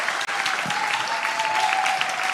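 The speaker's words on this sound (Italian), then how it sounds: "grazie per questo applauso davvero sincero e spontaneo" A crowd applauds at a festival show in Noventa Padovana. The clapping is dense and continuous through a short stretch, with a faint tone running beneath it.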